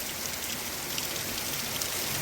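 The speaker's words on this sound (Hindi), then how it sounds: "अब देखो बारिश, बिल्कुल मोटी मोटी बारिश हो रही है" Heavy rain pours down steadily in a mountain village, a dense, constant hiss of drops on surfaces all around with no voices.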